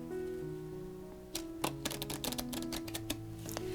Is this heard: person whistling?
no